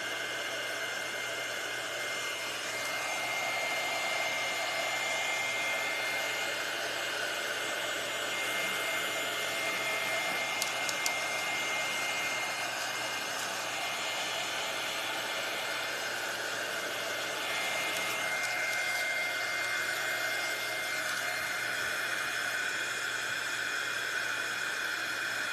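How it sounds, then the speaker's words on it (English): A handheld heat tool, used for crafting a primitive snowman angel ornament, blows hot air in a steady, continuous whoosh for the whole stretch, close and even, with no talking. "Can you see how that gave me like a nice burn on there from this heat tool?"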